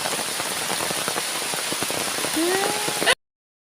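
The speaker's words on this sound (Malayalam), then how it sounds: "ഇതുകൊണ്ട് ഫുൾ മഴയാണ് കേട്ടോ" Heavy monsoon rain pours down steadily on a rubber plantation, a dense hiss of drops pattering on a surface, loud and close, cutting off abruptly at the end.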